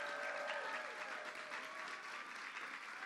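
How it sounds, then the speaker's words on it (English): Audience applause for Tom Duane at a bill signing for LGBTQ rights legislation, a dense, steady wash of clapping held at even loudness throughout, with faint voices or cheers threaded through early on. "Let's give Tom Duane a round of applause."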